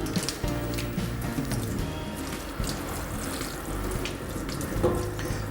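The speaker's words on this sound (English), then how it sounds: "Firstly, wet the dog thoroughly before starting the shampoo." Water from a shower head spraying and splashing onto a dog's coat to wet it before shampooing, a steady hissing rush with wet splattering, close and continuous with no talk.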